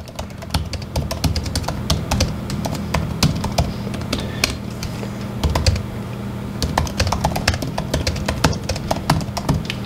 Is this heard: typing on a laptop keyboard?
yes